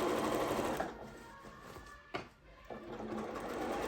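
A sewing machine stitches a seam on a fabric bag, with a rapid steady mechanical whir that pauses briefly in the middle before resuming, close and continuous with no talking.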